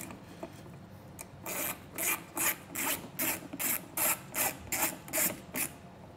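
A ratcheting driver turns out T15 Torx screws from a 2019 vehicle's tail light. It gives about ten evenly spaced, close raspy clicking strokes with no talking.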